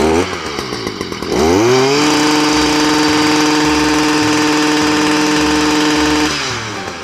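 Stihl MM55 garden tiller engine with a rebuilt Zama carburetor, started with a pull and then settling into a steady, loud, close-up idle that holds evenly before cutting off near the end.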